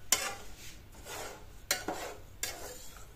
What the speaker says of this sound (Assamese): এতিয়া লাহে লাহে লাহে লাহে গুড়খিনি লৰাই থাকিব, তলত লাগি নধৰাকৈ লৰাই থাকিব লাগে।